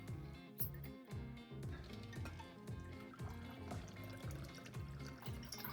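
A cocktail poured into glassware over ice: a continuous liquid splash and trickle with rhythmic glugging pulses, close and steady throughout.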